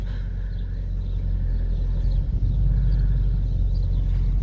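A farm pickup truck in four-wheel-drive low crawls along with a steady, deep engine rumble, close and continuous with no talking.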